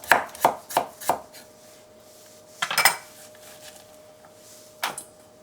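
A knife chops vegetables on a cutting board for a spicy squid salad, with four quick sharp strokes in a row, a short burst of cutting a moment later, then one last crisp chop, all close and without talk.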